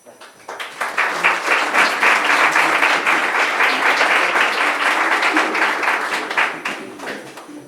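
An audience applauds warmly after a choir concert, clapping swelling quickly to a full, even roar that holds before tapering off at the end.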